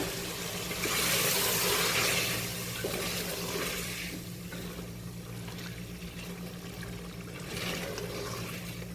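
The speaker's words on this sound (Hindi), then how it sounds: "थोड़ा सा इसमें पानी डाल दूँगी मैं।" Water pours into a pot of chicken biryani as it cooks: a steady, close, broad splashing rush that swells for a couple of seconds and then settles to a lower, continuous trickle, with a steady low hum underneath.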